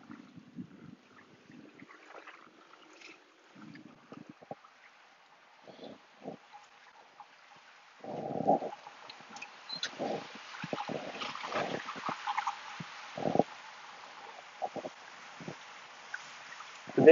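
Riding a boat along the Grand Canal in Venice, a soft wash of water and wind hiss fills the background, with occasional knocks and low thumps nearby and a steady engine-like murmur growing slightly louder later.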